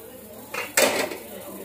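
Dishes and utensils clatter while kadhi pakora is served, a brief clink followed by a louder scraping rattle of metal and crockery close by.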